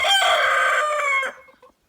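A Brahma rooster crows loudly and close by in one long, strained call that trails off, with a few soft clucks at the end.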